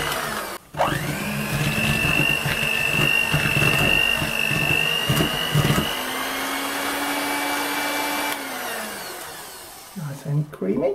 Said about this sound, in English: Beat the sugar and margarine to a cream.